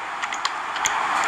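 Keyboard typing while entering land-use values into software, a quick run of light, sharp clicks over a steady background hiss.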